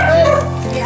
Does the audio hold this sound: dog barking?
yes